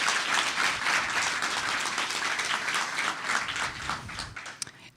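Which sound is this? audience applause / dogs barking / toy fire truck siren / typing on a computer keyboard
audience applause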